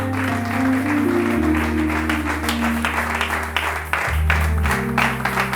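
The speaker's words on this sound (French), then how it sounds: "Lève-toi et acclame le Seigneur de grâce." A church congregation claps and cheers in a steady patter of applause, mixed with sustained organ or keyboard chords that shift pitch midway.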